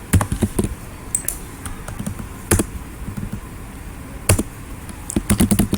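Random typing on a computer keyboard, with irregular bursts of key taps separated by short pauses and a few louder clusters near the end, close and clear over a quiet room.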